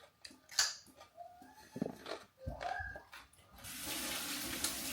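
Harvested backyard garden carrots being washed under running tap water: a few soft clinks and handling noises, then a steady rush of water pouring near and fairly loud through the last second.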